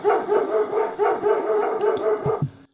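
A dog gives a run of rough, growly barks in a steady rhythm, close by, for a couple of seconds before stopping abruptly.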